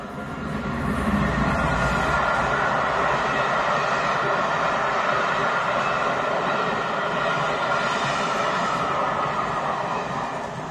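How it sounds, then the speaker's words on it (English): A train rolls past nearby with a steady, broad rumble and rushing noise that holds at an even level from start to finish. "And there's a train coming."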